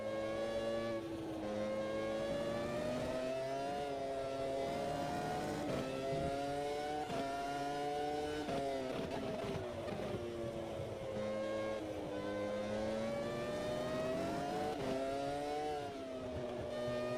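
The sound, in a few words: V10 race car engines at Spa in the video game Automobilista 2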